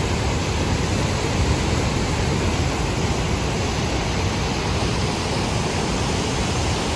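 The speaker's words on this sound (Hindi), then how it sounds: "ये देखो यार, यहाँ से कितनी तेज नदी बह रही है भाई साहब" A fast-flowing mountain river on the Manimahesh pilgrimage route in Himachal Pradesh, a steady, loud, full-bodied rushing roar of whitewater that stays constant throughout, close by and with no voices.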